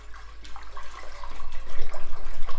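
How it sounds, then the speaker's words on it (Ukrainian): Water pours steadily into a pot to start the broth for Ukrainian red borscht, a close, continuous splashing that builds slightly in loudness as the pot fills. "Для початку нам потрібно поставити варитися бульйон. Заливаємо водичку."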